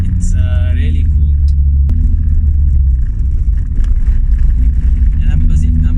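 A Toyota Corolla RXi with a 20-valve 4AGE twincam engine revs from inside the cabin, a loud rumbling drone with rising rev sweeps at the start, then a steady pull.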